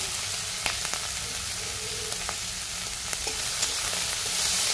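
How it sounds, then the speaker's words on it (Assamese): Small shrimp fry in very little oil in a pan, a dense continuous sizzle close by with occasional spatula taps and stirring clicks, no talk. "মিছা মাছখিনি একেবাৰে জান নিজান তেল দি ভাজিছো"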